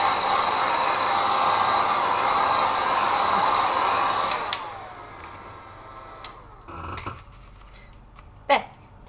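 A hair dryer blows on the back of a watercolor painting, a steady loud whooshing drone that cuts off partway through, leaving quiet room noise and a few knocks.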